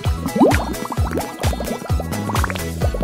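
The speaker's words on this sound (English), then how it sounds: "Just add water." Water poured into a candy-making gadget, a close, loud stream filling the container with rising gurgles and bubbling drips, continuous for a few seconds with no talk.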